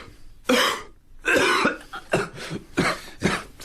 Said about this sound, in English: Now, cough.